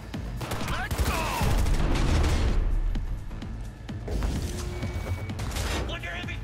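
Heavy gunfire in the video game Cyberpunk 2077, a dense, continuous barrage of overlapping shots and booms mixed with game effects, loud and sustained throughout with voices in the mix.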